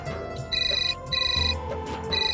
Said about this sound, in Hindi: अरे अरे, मेरा फोन आ गया।